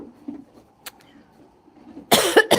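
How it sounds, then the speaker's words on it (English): A few harsh, broadband coughs from fly powder burst out in a barn near the end, loud and close, after a stretch of quiet low murmuring. "this fly powder is going to make me cough now."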